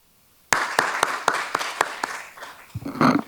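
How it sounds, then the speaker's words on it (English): Applause breaks out suddenly and continues as a burst of individual claps that thins out over a few seconds, with a voice starting at the end. "Everyone, please give a round of applause to Mr. Mark Ferguson."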